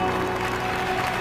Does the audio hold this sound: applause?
yes